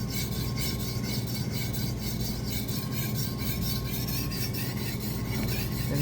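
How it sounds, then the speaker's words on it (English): Steel knife blade drawn steadily back and forth along the full length of a whetstone, a continuous close, loud gritty rasping with no talk. "it's very important to use the whole length of the whetstone"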